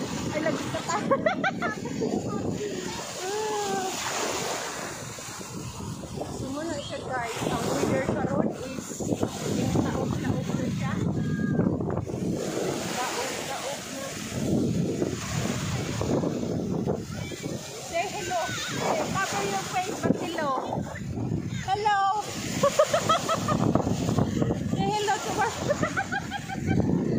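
A boat rides over choppy waves with steady wind rush and water splashing, while people talk over it nearly the whole time.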